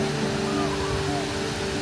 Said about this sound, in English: This is like the waterfall that comes all the way down, and there's a waterfall that goes off the edge at the back too.